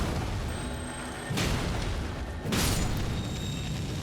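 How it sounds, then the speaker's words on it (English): An enemy blows up in Elden Ring: two heavy booming blasts, the first around the middle and a second shortly after, each a broad loud burst over a steady rumbling game background. "Oh, it explodes!"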